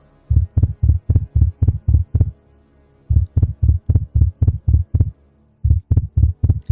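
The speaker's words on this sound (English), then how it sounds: "suddenly they begin to hear the sound of a heartbeat" A loud heartbeat sound effect thumps in steady double beats, close and deep, in three runs separated by short silent pauses, with no talking.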